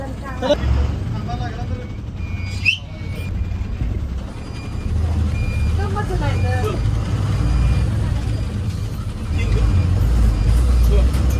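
A new bus bound for Chandgad drives along a road in Konkan, a steady low engine rumble and road noise throughout, with people talking over it.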